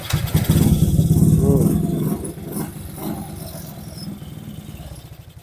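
Old motorcycle engine running in a village, loud and close, with a strong low rumble that swells in a rev during the first two seconds, then settles back to a steady idle.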